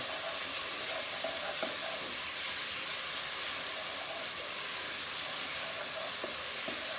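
Garlic and ginger paste fries in plenty of oil for a Bangladeshi okra chicken curry, giving a steady, close sizzle and hiss with a few faint stirring clicks.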